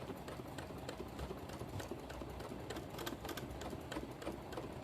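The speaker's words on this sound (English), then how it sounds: "see how I started in that position with a couple of little stitches without moving my fabric" A sewing machine stitching fabric during free motion quilting, running in a fast, continuous, even needle rhythm at low, quiet volume without any talking.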